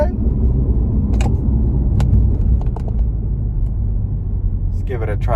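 A 2022 Mini Cooper Countryman S All4 on the road, heard from inside as a steady low engine and road rumble with a few brief clicks, while someone talks over it.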